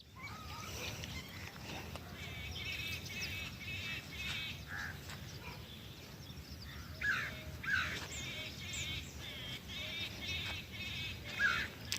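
Birds call repeatedly near a house, clear chirps and squawks arriving in bursts over a quiet outdoor background, with a faint voice now and then.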